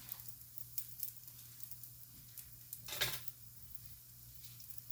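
Batter or food sizzling faintly in an oiled pan while a kid-friendly vegan breakfast is cooked, a steady low hiss with a brief louder burst of sizzle near the middle as it is pressed down.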